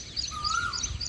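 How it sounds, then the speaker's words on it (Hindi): A koel calls outdoors on a cool morning breeze, a single rising whistled note heard faintly at a distance over soft wind and rustling. "कोयल की भी आवाज़ आ रही, कू कू।"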